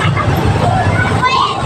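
Busy street traffic with trucks and cars rumbling steadily close by, a low continuous engine drone under a murmur of crowd voices.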